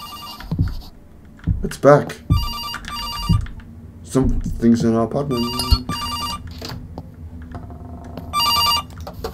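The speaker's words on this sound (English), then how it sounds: "Oh, who's on the phone?" A telephone bell rings repeatedly in short regular bursts inside an apartment in the horror video game September 7th, sounding loud and near, with tense speech from a character over it.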